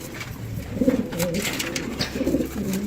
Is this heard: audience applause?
no